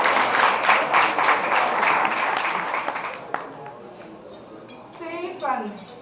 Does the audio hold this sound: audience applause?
yes